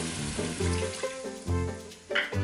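Soy sauce and water are poured into a hot Instant Pot holding beef cubes and hit the metal with a loud sizzle, with bubbling, gurgling liquid and a steady hiss that comes in repeated surges, close and prominent with no talking.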